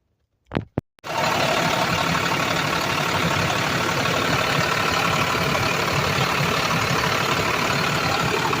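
A Ford F-700 truck's Cummins 6BT diesel engine catches after two brief cranking bursts, then runs steadily and loudly at a rough, rattling idle close by.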